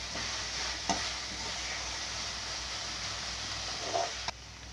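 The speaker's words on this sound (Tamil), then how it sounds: "எல்லாம் சேர்ந்து வதங்கி வருது. இன்னும் கொஞ்சம் வதங்கணும்." Chopped ingredients for a chana dal gravy sauté in a pan with a steady, close sizzling hiss, broken by a few scraping stirs of a spoon.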